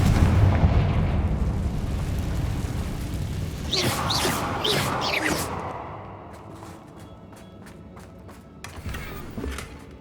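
Confringo fire spell cast in Hogwarts Legacy on PS5 Pro, a booming blast with a burst of crackling sparks around the middle, followed by a fading rumble and a few lighter pops near the end.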